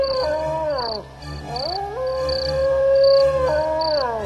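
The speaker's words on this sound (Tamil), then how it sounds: "இங்கிருந்தோ நரி ஒன்று ஊளையிட்டது." Cartoon fox howling in an animated Panchatantra story, a series of long wavering wails rising and falling, with a steady musical hum underneath and no talking.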